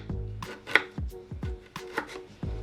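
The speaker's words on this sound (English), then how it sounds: "next what I'm going to do is slice my ginger root" A knife slicing fresh ginger root on a cutting board for a smoothie, giving quick repeated chopping thuds and crisp cuts at an uneven brisk pace, close up with no voices.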